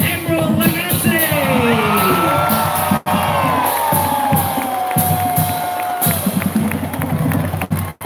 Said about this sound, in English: Please give a big round of applause, and if you want to, give a bow or two to Chef Emerald Lagasse.